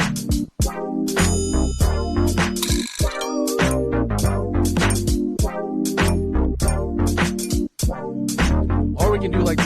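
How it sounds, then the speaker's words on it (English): A ride cymbal sample rings in a steady, looping drum beat, with bright metallic pings riding over a punchy kick and snare pattern that plays continuously with only a couple of brief drops. "what I want to look for is like a ride cymbal to go on top of this"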